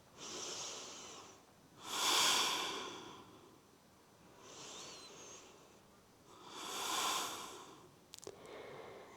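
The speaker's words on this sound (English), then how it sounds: "We're going to hold here for 8 breaths." Slow deep breathing during a yoga hold, two long airy inhale-exhale cycles, soft and close with gentle rising and falling swells and a small click near the end.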